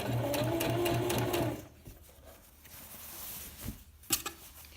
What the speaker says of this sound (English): Just doing a straight stitch.